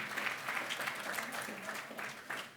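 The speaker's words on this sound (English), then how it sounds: "that's worth a round of applause, isn't it?" An audience at the Shropshire, Telford & Wrekin Apprenticeship Awards claps in a sustained round of applause, a dense wash of hands at moderate level with no pauses.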